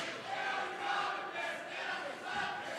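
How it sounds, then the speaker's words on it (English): A high school student section chants and cheers in rhythmic waves at a boys varsity basketball game. The crowd noise rises and falls in a steady pulse and sounds somewhat distant and moderate in level. "You can hear the student section"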